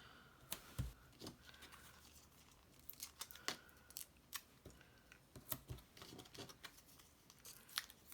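Scissors cut through paper Halloween cards, a quiet, close series of irregular snips with light paper rustling and crinkling between the cuts.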